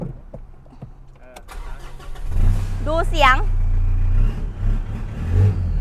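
A 2017 Mitsubishi Triton Cab 2.5 GLX pickup engine cranks and starts, then idles and revs loudly nearby while a person talks over it.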